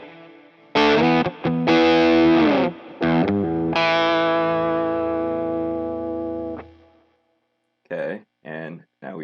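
A gritty, distorted electric guitar riff with chorus effect rings out in loud sustained chords and squealing artificial harmonics, followed by a few short choppy stabs.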